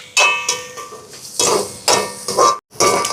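Chopped onions and green chillies being sautéed and stirred in a pan, bursts of scraping and clinking utensil strokes against the metal with a soft sizzle between them, close and fairly loud.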